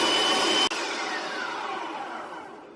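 Countertop blender pureeing grain-free, sugar-free pumpkin bread batter, a loud steady whirring motor that cuts briefly, then spins down slowly and fades.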